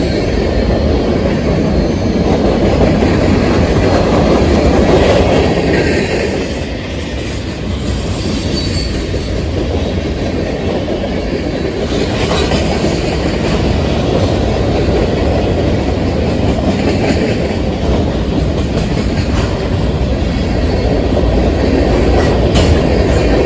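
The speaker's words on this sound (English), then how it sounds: "A rebuilt former Southern Pacific GP40-2 was seen trailing second on this Union Pacific mixed freight train" A Union Pacific mixed freight train, with a rebuilt former Southern Pacific GP40-2 locomotive trailing second, rolls past in Rochelle, Illinois, giving a loud, steady rumble of rail cars with clattering wheels and occasional squeals, no voices.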